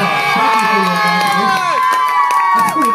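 A crowd at a magician's show during a CD release event cheers and whoops loudly, with excited voices and shouts layered over a brief burst of celebration.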